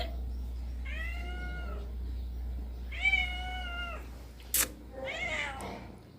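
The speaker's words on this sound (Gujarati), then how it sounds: "જો મીંદડા" A cat meows three times, drawn-out and nasal, spaced a second or two apart over a low steady hum, with a sharp click between the last two.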